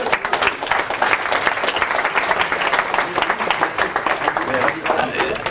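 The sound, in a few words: audience round of applause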